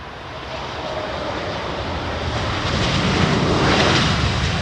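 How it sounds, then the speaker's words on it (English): An Etihad jet airliner coming in to land: a broad, steady engine roar that swells gradually louder as the aircraft draws nearer, with no voices. "It's a second Etihad jet we've seen coming in."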